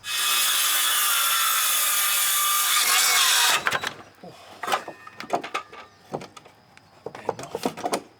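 Hand sawing through a wooden ramp joist, a steady close rasp for about three and a half seconds, then stops and gives way to scattered knocks and handling sounds.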